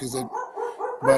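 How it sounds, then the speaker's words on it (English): A dog barks several times in quick yelping bursts near a person speaking indoors during a conversation, the barks loud and overlapping the voice. "excuse my dog."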